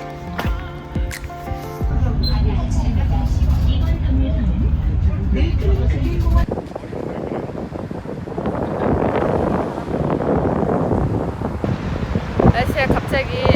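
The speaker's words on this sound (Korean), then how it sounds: "날씨가 갑자기 바람이 많이 불어." Strong gusts buffet the microphone outdoors, a loud, continuous low roar of wind noise that shifts character partway through, with people talking over it.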